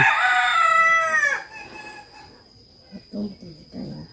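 A rooster crows once, loud and close, in a long drawn-out call that fades, followed by brief quiet and a few low sounds.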